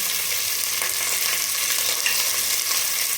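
Leftover cooked rice with turmeric fries in a pan with a steady, close sizzle and faint stirring scrapes, with no talking.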